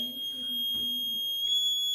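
A steady high-pitched electronic buzzer tone from a transistor-switched buzzer circuit sounds continuously, with faint talking underneath and a soft low hum.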